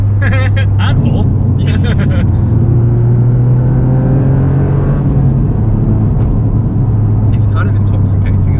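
Toyota GR Yaris hot hatch engine pulling hard up through third and fourth gear, a loud rising drone with climbing harmonics and a brief dip at the shift, heard from inside the cabin with people talking over it.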